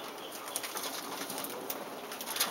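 Pet cockatiels feed together indoors, giving faint, scattered chirps and short calls over a steady background hiss.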